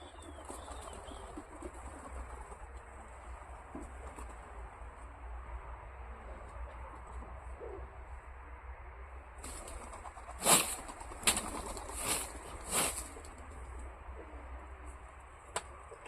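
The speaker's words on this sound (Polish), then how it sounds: "puszczamy gołębie" A flock of racing pigeons is released at a special race and takes off in several loud bursts of flapping wings late in the clip, over a steady outdoor background hum.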